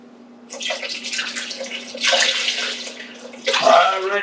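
Tap water pours into a large cooking pot for seafood gumbo, a steady splashing rush that swells louder in surges, close and alone with no talk.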